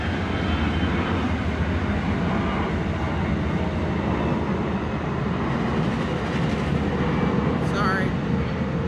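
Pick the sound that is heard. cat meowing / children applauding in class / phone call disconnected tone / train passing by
train passing by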